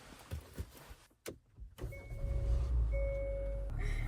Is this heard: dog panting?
no